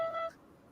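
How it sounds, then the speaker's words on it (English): A phone medication-reminder app gives a short two-tone electronic beep, clear and close, ending abruptly into quiet. "That was my phone."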